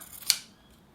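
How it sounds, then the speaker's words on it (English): Scissors snip through the fabric binding wrapped on a cross-stitch embroidery hoop, a single crisp, quiet cut close by, followed by near silence with no talking. "the last bit that I have to do is where the scissors come in"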